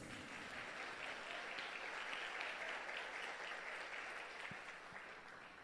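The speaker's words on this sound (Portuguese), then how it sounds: "Uma salva de palmas para Jesus." Applause from a church congregation at a conference, a dense, even wash of clapping that holds steady for several seconds at a moderate distance, with no talk over it.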